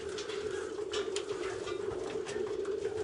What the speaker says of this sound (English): There's a Chris Stacy pigeon right there.